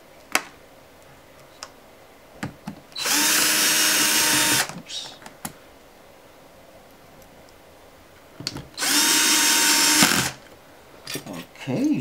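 A power drill whirs in two loud, steady bursts of about two seconds each while driving screws on an Elo Touch ET1525L touchscreen monitor, with small clicks and handling noises of parts between the runs.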